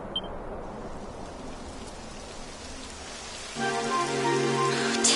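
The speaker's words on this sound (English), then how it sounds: "Typical. It would have to go and start raining," Rain begins falling in the video game Dragon Quest XI as a soft, steady hiss of drops that swells midway, joined by sustained in-game music tones.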